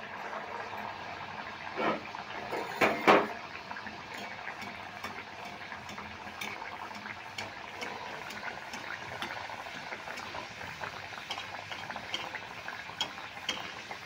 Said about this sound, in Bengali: আমি একসঙ্গে 2টো করে ভেজে নেব